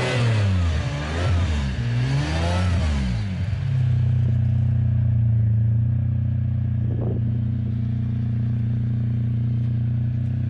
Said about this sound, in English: Listen to that. Can I just say engine sound?